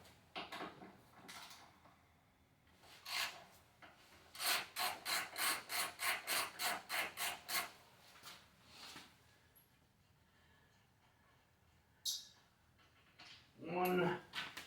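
Allen key loosening two 6mm Allen head bolts from the seat of a 2023 Indian Challenger motorcycle: a run of quick, evenly spaced ratcheting clicks in the middle, with scattered scraping and handling noises around it, close but fairly quiet.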